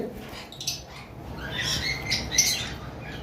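Conure parrots, including a male crimson-bellied conure, let out shrill squawks and chirps against a noisy background, with a couple of sharper calls near the end.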